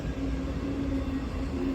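A CSX freight train rolls past at Glendale as a steady, loud rumble with a low hum and constant wheel noise throughout, no voices.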